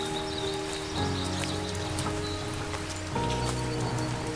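Steady rain falls in a forest during a brown bear's search for food, a dense, even hiss of drops that continues unbroken at moderate volume with no voices.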